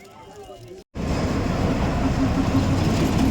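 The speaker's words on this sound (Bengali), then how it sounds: "আমাদের স্টিম ইঞ্জিন বল চালিত টয় ট্রেন, দার্জিলিংয়ের ঐতিহ্য" Darjeeling's steam-engine-powered heritage toy train produces a loud, steady rumble and rattle that begins abruptly after a short gap and continues to the end.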